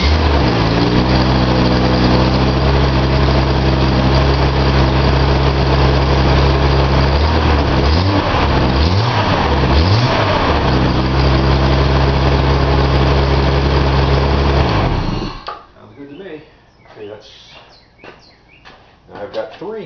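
A Datsun 280z engine idles loudly and close with a heavy steady drone, revving in a few swells midway, then shuts off, leaving quieter clicks and handling sounds.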